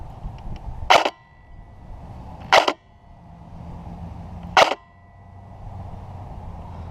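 Three sharp, isolated airsoft shots from a Krytac MK2 CRB rifle fire outdoors, spaced about two seconds apart, each a crisp snap over a low background hum.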